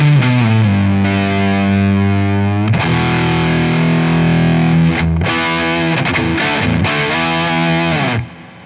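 Electric guitar played through a Universal Audio Diesel VH4 amp plugin, thick distorted high-gain chords and sustained notes ringing out loud and continuous before fading at the end.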